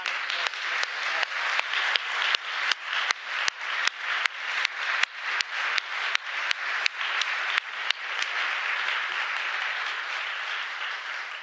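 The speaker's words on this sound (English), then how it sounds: "One more round of applause." Sustained audience applause at a competition enforcement conference, a dense crowd clapping loudly and steadily for about eleven seconds with sharp accents throughout, then thinning into a steady wash of hands near the end.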